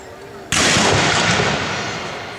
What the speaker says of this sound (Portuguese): João Careca vai dar o tiro lá.